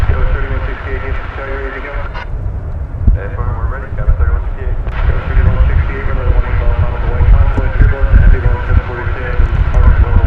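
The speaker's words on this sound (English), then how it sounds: "Coming in from Los Angeles, an Airbus A321 flight 2458." An Airbus A321 airliner arriving at DFW Airport from Los Angeles gives a steady, loud jet rumble that holds for the whole stretch, with people talking over it throughout.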